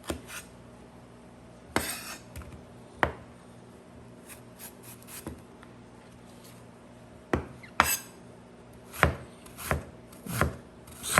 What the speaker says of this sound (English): slice my onions. I'm not gonna chop the onions. I'm gonna slice it, separate it.